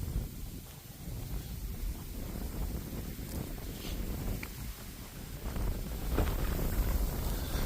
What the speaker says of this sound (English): it's been a really windy day